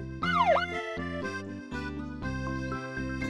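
Cartoon police car siren from a children's animated vehicle show, a bright synthetic wailing sweep followed by stepped two-tone musical blasts, loud and close with no talking.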